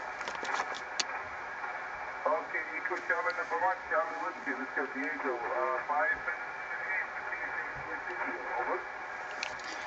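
Shortwave amateur radio single-sideband voice on the 15 m band from a Kuwait station, a distorted, band-limited voice riding on steady hiss with slow fading in strength, continuous for about ten seconds.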